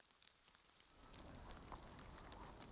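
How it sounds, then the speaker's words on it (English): Rain falls in the video game The Lion's Song, Episode 3: a soft, steady hiss that grows fuller after the first second, heard faintly and without voices. "Oh, it's raining though."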